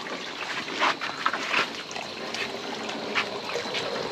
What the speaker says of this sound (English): it drips down here into this little jug here